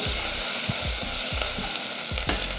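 Crushed garlic with curry leaves and turmeric sautéing in a pan for Tamil-style rasam, with a steady close sizzle broken by repeated scraping stirs at an irregular rhythm.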